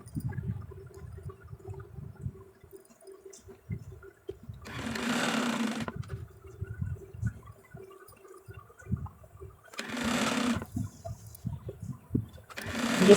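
Domestic sewing machine stitching along the edge of a baby frock's ruffled sleeve, in three bursts of rapid whirring needle runs separated by quiet pauses filled with soft handling sounds, close and moderately loud.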